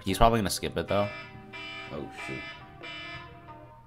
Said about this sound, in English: That's my alarm to wake up.